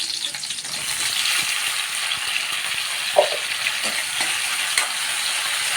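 Tomatoes fry in a pan with a steady, loud bright sizzle while being stirred, a few soft scraping knocks of the utensil against the pan breaking through, no voices.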